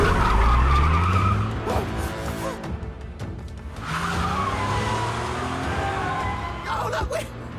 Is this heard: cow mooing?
no